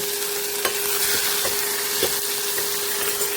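Ginger garlic paste sizzling in hot oil during a tempering with mustard seeds, cumin and asafoetida: a loud, even, close sizzle with a few soft spoon taps and a faint steady tone underneath, no talking.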